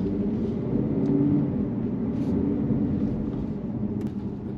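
A Lexus LC500 V8 drives through a built-up neighbourhood, giving a steady low engine and exhaust drone heard from inside the car, smooth and unbroken with road rumble beneath.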